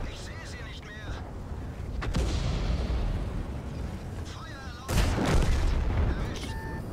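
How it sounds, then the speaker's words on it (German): Artillery firing in World of Tanks, deep booms and rumbling blasts in a busy battle mix, with a sharp heavy shot near the end, under someone talking. "5 Minuten vor Schluss macht hier Arti mal was."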